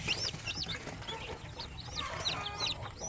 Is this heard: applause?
no